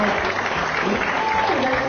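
Continuous applause from an audience, steady and dense throughout, with a faint voice underneath.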